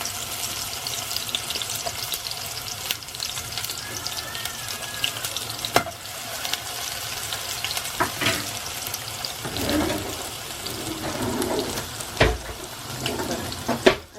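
Spring onion dropping into hot oil in a non-stick pot, giving a steady broadband hiss with a few sharper crackles and brief bursts near the end, close up with no talking.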